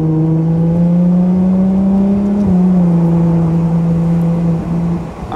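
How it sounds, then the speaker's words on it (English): A Ferrari 812 Competizione's V12 pulls steadily from inside the car, a loud, smooth, sustained engine note rising slightly with a short shift midway and easing off at the end. "It's the 812 engine."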